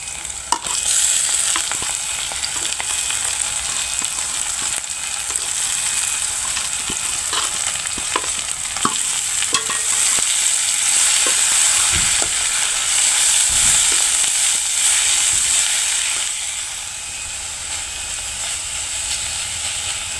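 Boiled young chili greens fry in a hot pan with a loud, continuous sizzle and hiss, broken by scattered clinks and scrapes of a stirring spoon.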